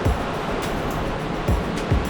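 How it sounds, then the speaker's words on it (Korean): Waves break in an artificial surfing wave pool, a continuous close wash of churning water with a few heavier surges swelling through it, and no talk. "소리가 진짜 바다에서 파도치는 소리가 나는 것 같아"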